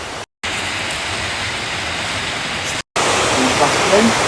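A river in Assin Manso, Ghana, flowing with a steady broadband rushing wash, loud and continuous apart from two brief dropouts, with faint voices near the end.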